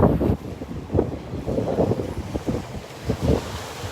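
Gusty wind buffets the microphone on a beach at Delnor-Wiggins park during a walk into the wind, with a low rumbling roar that surges and eases continuously and no talking.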